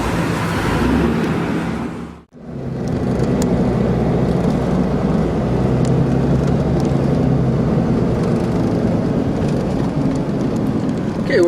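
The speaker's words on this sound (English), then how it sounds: "we're driving up the road to Volcan Baru, also known as Volcan de Chiriquí" A car drives up the mountain road toward Volcan Baru in Panama, with a loud, continuous road and wind rumble inside the cabin and one brief dropout early on.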